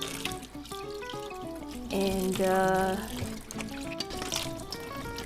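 Tap water runs and splashes into a sink as raw chicken is rinsed, with faint music and a brief voice underneath.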